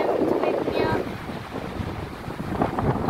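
Ocean waves wash against rocks as a steady, broad roar with wind buffeting the microphone, surging slightly louder near the start and end.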